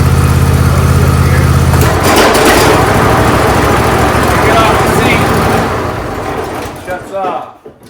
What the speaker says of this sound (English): I'm going to energize the PTO, I'm going to hear the belt start.